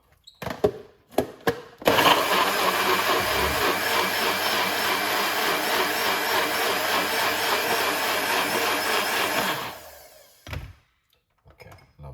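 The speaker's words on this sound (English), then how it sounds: "I need a bigger blender." A blender whirs loudly and continuously for about eight seconds while making beetroot juice, preceded and followed by a few clunks and knocks.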